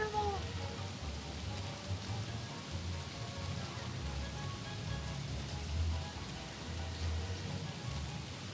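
Steady frog rain in a video game patters continuously at a soft, even level, a dense hiss of drops with a low rumble underneath and no voices.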